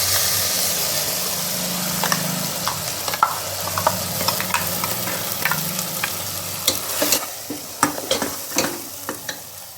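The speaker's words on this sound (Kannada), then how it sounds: "ಈರುಳ್ಳಿ ಫ್ರೈ ಆಯಿತು. ಈಗ ಮಸಾಲೆ ಹಾಕ್ತಾಯಿದ್ದೀನಿ." Onions frying in a pan with masala just added for a dry fish sambar, giving a steady close sizzle with scraping stirs and clicks that grow busier toward the end, with no talking.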